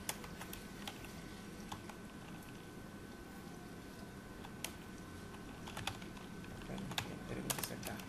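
Quiet computer keyboard typing while entering a command, a run of light, irregular key clicks close by with a few sharper taps, no voices.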